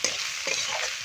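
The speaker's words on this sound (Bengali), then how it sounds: "মশলাটাকে ভালো করে কষাবো।" Ground chilli, coriander and turmeric frying in a pan for a village-style fish curry, a soft sizzle under brief scraping stirs, close and fairly quiet.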